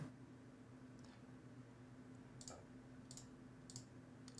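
Computer mouse clicks while choosing an option in a settings page, a handful of faint, sharp clicks at irregular intervals over a low steady hum.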